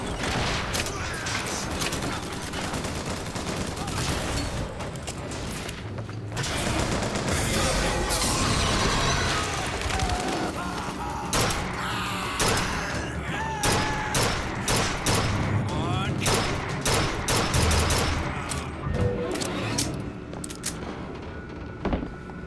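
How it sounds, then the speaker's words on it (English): Rapid gunfire crackles through a firefight in the video game BioShock Infinite, bursts of shots repeating in quick, irregular volleys, loud and close over background noise. "Who's shooting at me from back here?"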